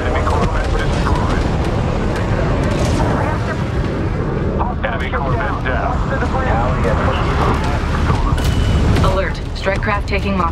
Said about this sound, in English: Enemy corvette destroyed.